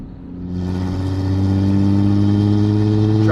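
A fully built BMW N54 single turbo engine car pulls away, its engine note rising from a low idle into a loud, steady, harmonic drone as it accelerates.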